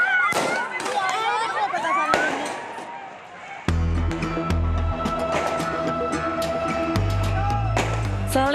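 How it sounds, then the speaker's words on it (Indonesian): Firecrackers bursting during a street fight between residents at a railway crossing in Manggarai, Tebet, Jakarta: repeated sharp bangs and crackling pops, loud and irregular, with crowd noise, a siren-like wail and a louder, denser stretch of blasts toward the end. "Rabu malam terjadi saling serang petasan antar warga di perlintasan kereta api di kawasan Manggarai"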